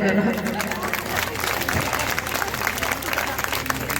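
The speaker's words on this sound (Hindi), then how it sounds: "जोरदार तालियां बजाएंगे सभी भाइयों के लिए" Audience at a religious gathering applauding, a continuous dense clatter of many hands, moderately loud with crowd murmur mixed in.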